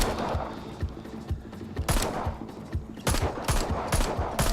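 Rapid gunfire in the virtual-reality zombie shooter Arizona Sunshine: a steady stream of sharp shots with a few louder bursts, loud and close over a dense background, no talk.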